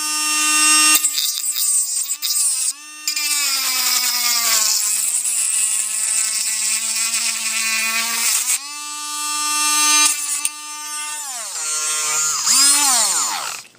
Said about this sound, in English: you're gonna need to sand down all the inside so it's all smooth on the inside